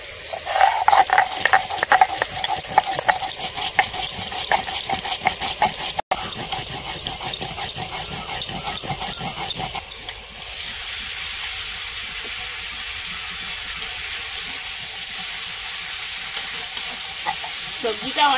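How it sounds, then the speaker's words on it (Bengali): Cauliflower being stirred and sautéed in a pan with spices, a steady sizzle and frying crackle with scraping stirs near at hand, fairly constant throughout with a brief gap partway. "ভালো করে ফুলকপি কষিয়ে নেবো"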